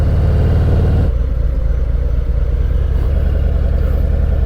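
Harley-Davidson FXDR 114 motorcycle engine winding down to a stop, a loud steady low rumble that drops in intensity after the first second and settles into a continuous idle-like throb.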